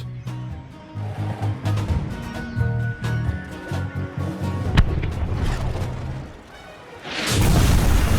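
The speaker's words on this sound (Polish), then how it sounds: "Dostrzegły nas załogi armat!" Ship cannon crews fire in the Skylanders Spyro's Adventure video game, with booming cannon shots and sharp bursts over a busy game music score, growing into a loud rumbling blast at the end.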